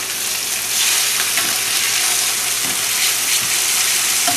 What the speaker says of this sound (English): you know it's hot enough because it sizzles like that